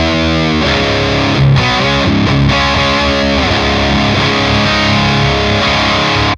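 Electric guitar played through a Friedman Jose 20 amplifier with thick, saturated distortion; sustained chords and riffs ring out loud and close, with no talk over them.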